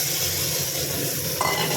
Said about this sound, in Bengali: মাশরুমগুলো দিয়ে দিলাম, ভালো করে এর সঙ্গে মশলার সঙ্গে একটু কষিয়ে নেবো।